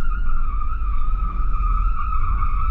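A Mercedes G 580 EQ electric SUV spins in place in a tank turn, a steady high electric motor whine with a sustained tire-scrub hiss and rumble running loud and close throughout.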